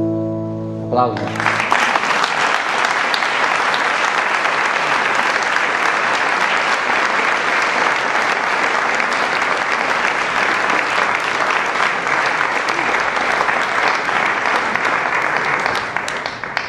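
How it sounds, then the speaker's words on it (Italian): Sustained, dense applause from a theatre audience after a live Italian singer-songwriter stage performance, starting abruptly after a final sung note and continuing loud and steady for the remaining length without any speech. "Applauso."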